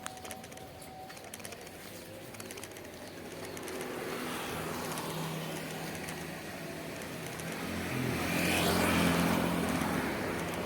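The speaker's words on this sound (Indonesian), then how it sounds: "Ini lalu lintas, alhamdulillah lancar." Street traffic passes on a quiet road on the morning of Eid al-Fitr, with a low steady rumble of vehicles that swells as cars go by near the end; birds and pigeons can be heard faintly.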